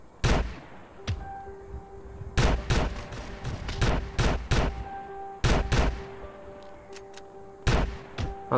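Gunfire in GTA San Andreas during a zombie apocalypse mode, sharp loud shots fired singly and in quick bursts, separated by short pauses, with faint game tones underneath.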